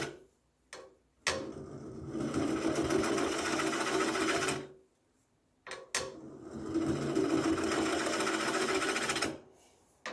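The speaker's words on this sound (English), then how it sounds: "Since this is Brock's first bowl, we have the lathe at a very slow speed" A wood lathe turns a bowl at slow speed, giving two sustained runs of steady mechanical whirring and gouge scraping, each lasting several seconds and separated by short, near-silent pauses.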